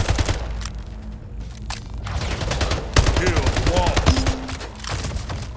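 Gunfire in the portal-based shooter game Splitgate, loud bursts of rapid shots and booms mixed with game effects, partly under a voice.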